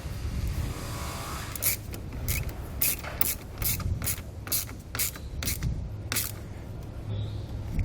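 A ratchet clicks in quick bursts while tightening a bolt onto a ring terminal during a 7-way trailer brake controller wiring install on a 2020 Subaru, with rapid close-up pawl ticks repeating across the clip over a low hum.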